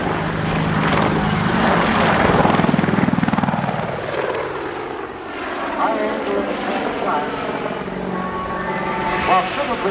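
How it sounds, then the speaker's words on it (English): A US military attack helicopter built for anti-tank warfare, with a four-bladed main rotor, flies at an airshow, its loud rotor thump and engine whine shifting as it passes, with a narrator speaking over it. "first helicopter built strictly for the anti-tank warfare role"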